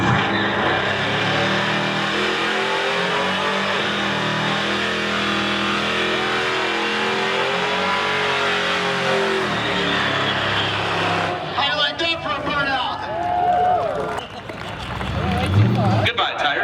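At a drag race event, a Camaro on bald tires revs loudly in a sustained roar as it burns out, followed by a choppier engine burst with a crowd and voices audible.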